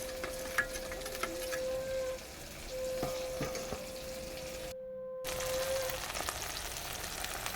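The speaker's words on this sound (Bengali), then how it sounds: "এই সমস্ত মশলাগুলো দিয়ে আমি ভালোভাবে ভেজে নেব" Chicken spice paste of ginger, garlic, turmeric and chili powder frying in a wok, a steady close sizzle with occasional stirring scrapes and a faint tonal hum, briefly cutting out near the end.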